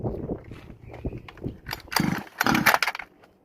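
A Rovan 29cc gas engine, pull-started by hand, gives a few loud raspy pops and bursts between softer rustling and pulling sounds, heard up close with no talking.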